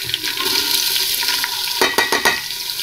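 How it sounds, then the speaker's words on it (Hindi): Onions dropped into hot oil and frying, a loud close sizzle rising with a few sharp bursts near the end, with no talk. "अब हम इसके अंदर प्याज डालेंगे"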